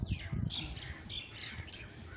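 Birds chirp and tweet in the open brick courtyard of an old mosque, a few short bright calls scattered over a soft ambient background, with no talking.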